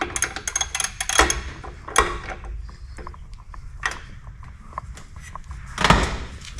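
A 7/8 socket wrench works on the fan belt tensioner of a Rotax 447 engine on a Quad City Challenger, giving close, irregular metallic clanks and clicks, with a few sharper knocks spaced several seconds apart and no talking.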